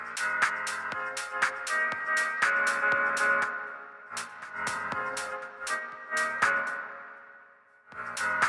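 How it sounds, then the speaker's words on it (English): Electronic track played through an Ecler Warm2 rotary DJ mixer with reverb on the send, sharp rhythmic hits trailing into ringing tonal washes, a brief near-silent gap, then the beat returning; no voices. "You can adjust a little reverb if you want."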